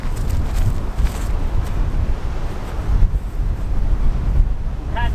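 Steady left-to-right wind blows across an outdoor disc golf course, rushing and buffeting the microphone continuously at close range, with no talk.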